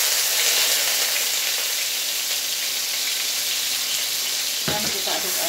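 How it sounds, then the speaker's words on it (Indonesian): Ground spice paste hisses loudly in hot oil as the base for fried kway teow, a dense continuous sizzle close up, with a brief stir near the end and no talk. "Teman-teman, ini saya mau tumis dulu."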